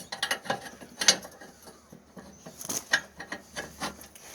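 A metal pin slides into a 4-in-1 bucket tow hitch, giving a few close, sharp metallic clanks and rattles with short pauses between them.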